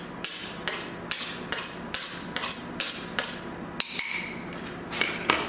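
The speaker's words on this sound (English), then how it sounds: "I'm going to sharpen the knife." Kitchen knife being sharpened ahead of slicing chicken and garlic: a steady series of about a dozen crisp, ringing metallic strokes at an even rhythm, close and fairly loud with no talk.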